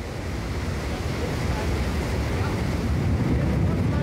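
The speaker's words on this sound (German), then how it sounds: "Die Ingenieure dort werden die Windgeschwindigkeit langsam steigern." A steady, powerful rush of airflow in a wind tunnel roars continuously and builds slightly in intensity as wind speed is raised toward hurricane force, broad and unbroken throughout.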